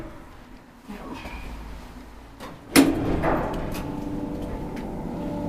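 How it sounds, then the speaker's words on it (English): A Kone hydraulic freight elevator at a shopping centre runs with a low mechanical rumble, a sharp clunk of doors or car partway through, then steady machine noise continuing, close by. "I really like the hydraulic sound. Pure 70s sound."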